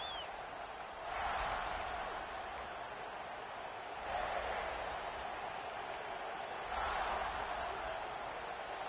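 A stadium crowd in the NCAA 26 college football video game, a broad distant roar that swells in three waves.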